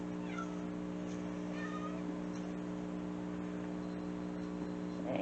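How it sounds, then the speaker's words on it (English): A house cat meows faintly a few times against a steady electrical hum and background noise, the calls brief and somewhat distant. "you guys probably heard another meow, but that's my other cat, Gizmo"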